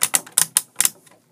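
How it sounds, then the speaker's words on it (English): Ratcheting shoulder joints on a Daca Toys Kronos action figure clicking through their notches, a handful of sharp, close plastic clicks in quick irregular bursts that fade into quiet. "And then he's got the ratcheting shoulders."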